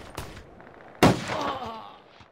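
Two sharp sniper rifle shots in the Respawnables video game crack out, a lighter one followed a second later by a louder blast with a ringing, decaying tail.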